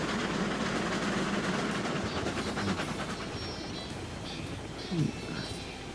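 Steam locomotive in a train video game, a steady dense rumble of running train with faint rhythmic chuffing and rail clatter throughout, fairly loud and continuous.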